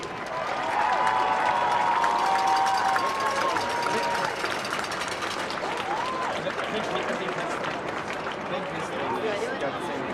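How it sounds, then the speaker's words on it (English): A crowd applauds and cheers for the 2024 seniors at a Sherman High School football game, with dense sustained clapping and a roar filling the stands. Whistles and voices ride over it, and an announcer speaks over the crowd. "let's give a huge round of applause for your 2024 seniors"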